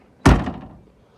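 A Fox body Mustang car door shuts after new door seals are fitted, giving one close, solid thunk that fades quickly into quiet.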